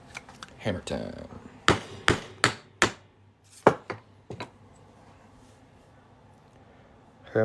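Sharp metallic taps of a hammer on a Mercury dime being made into a coin ring ring out in an uneven series of about eight strikes, then stop, leaving quiet room noise.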